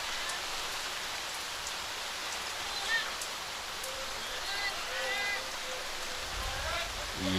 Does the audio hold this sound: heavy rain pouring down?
yes